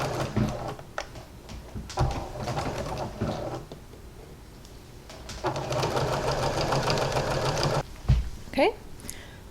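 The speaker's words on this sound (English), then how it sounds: "I'm gonna sew one of these long seams all the way down" A sewing machine runs a long seam through pinned fleece in several bursts of rapid mechanical stitching, separated by short pauses, close up, with a voice speaking over parts of it.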